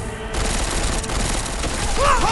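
Dense gunfire in Deus Ex: Mankind Divided during a covert mission in Dubai. A loud, continuous fusillade of rapid shots rattles throughout, with a sharp whine rising near the end.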